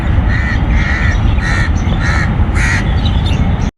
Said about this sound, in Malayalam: നല്ല കാക്കകളൊക്കെ കരയുന്ന സൗണ്ടൊക്കെ കേൾക്കുന്നില്ലേ.